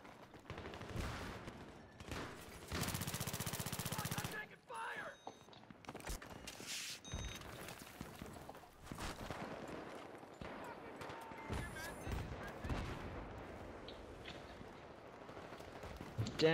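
Gunfire and explosions from the video game Close Quarters, with a dense burst of rapid fire, scattered shots and footsteps, loud and close throughout, mixed with in-game noise and occasional talk.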